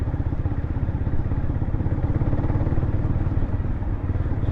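A Honda CB300R motorcycle engine drones steadily in fifth gear at low speed, a close, even mid-pitched thrum with a fine pulsing rhythm and no talk.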